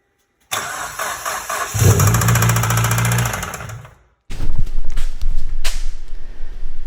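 A Mitsubishi Evo engine with its serpentine belt off cranks and runs for a few seconds with a loud, rough, knocking idle, cuts out briefly, then fires again with harsh clattering and rattling up close.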